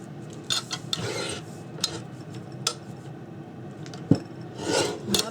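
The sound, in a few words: trimming the ends of a Christmas card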